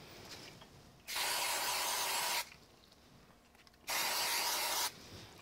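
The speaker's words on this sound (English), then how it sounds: "I'm going to just hit it with a bit of spray glue here." Spray glue hissing from an aerosol can onto a handmade card, two steady bursts of about a second and a half each with a quiet pause between, close and fairly loud.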